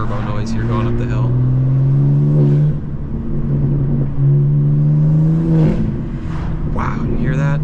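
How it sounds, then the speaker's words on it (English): A turbocharged 800 hp BMW M2 (G87) engine drones steadily as it accelerates uphill, with a sustained low hum and rising whir running throughout, occasional shifts in pitch, close and loud. "Let's get some turbo noise here going up the hill."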